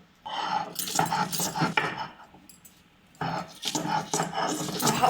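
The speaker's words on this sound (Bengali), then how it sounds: "সমস্ত কিছু দিয়ে এটাকে এবার ভালো করে বেটে নেব।" Garlic and other ingredients for a dried fish bharta being ground on a traditional grinding stone, a close, loud, scraping grind in two long bursts separated by a brief pause.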